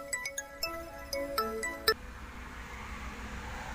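A mobile phone ringtone plays a bright, quick run of chiming electronic notes for about two seconds, then cuts off, leaving a quiet room hiss.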